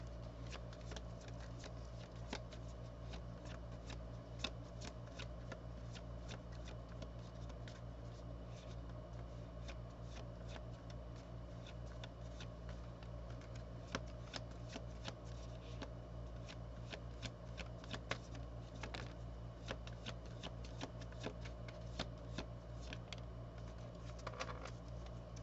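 Tarot cards are shuffled steadily and close by, a continuous soft riffling patter with small irregular flicks running throughout, over a faint constant low hum.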